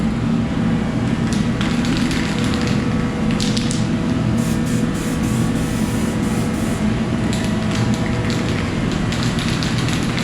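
Continuous loud hiss of a rattle-can aerosol spraying paint onto a car headlight on a Supra Turbo, held steadily for ten seconds with no pauses.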